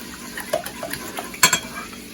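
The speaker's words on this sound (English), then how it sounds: "we're going to whisk this up. Always whisk the eggs." Eggs being whisked in a bowl for French toast, light clinking taps and stirring scrapes at an uneven rhythm, close and fairly quiet, with a sharper clatter near the end.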